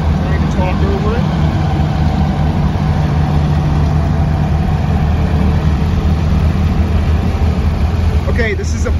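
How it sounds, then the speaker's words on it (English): A locomotive passing near a motorcycle dealership, a loud continuous low engine rumble and drone filling the whole stretch, steady and close with no pause. "Let the locomotive go by here"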